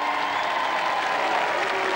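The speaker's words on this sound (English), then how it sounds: "A little applause," Steady audience applause for the Duchess of York fills the whole stretch at a 1987 royal charity tournament, a dense even patter of many hands clapping with a faint crowd murmur underneath.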